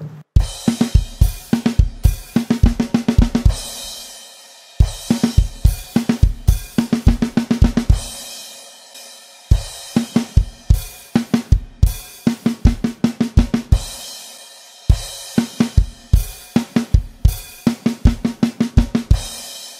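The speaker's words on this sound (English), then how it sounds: "The line 5 fill is very similar, except it's all on the snare drum." A close, loud drum kit plays a beat in the style of a song in four repeated phrases, each closing with a rapid fill played entirely on the snare drum, with no voices.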